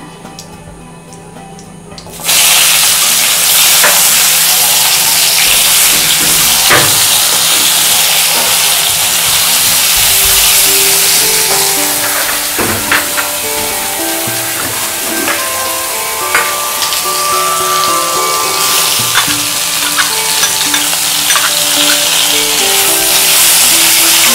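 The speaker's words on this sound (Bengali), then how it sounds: "আমটা একটু ভাজা ভাজা করব" Loud, continuous hiss and sizzle starts abruptly as mango pieces hit hot spiced oil, with scattered pops and crackles over a steady roar.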